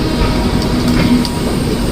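Bihar Sampark Kranti superfast express running past Ghaziabad, a steady loud rumble of the rolling train with a faint rhythmic wheel clatter and a thin tonal whine, continuous and close, with no voices.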